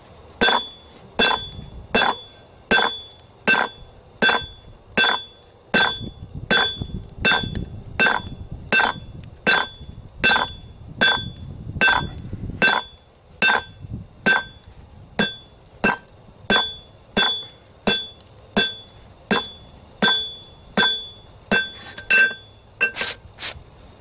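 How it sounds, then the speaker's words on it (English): Rhythmic metal-on-metal hammer strikes on hot metal over an anvil while forging a trowel, sharp ringing blows repeating steadily, close up, with brief pauses between runs of hits. "I'm going to take my hammer and proceed to flatten it out."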